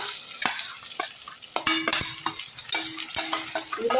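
Citron pickle being stirred in a pan over low heat, with repeated spoon scrapes and clinks against the metal over a light sizzle. The sound is close and busy, with no voices.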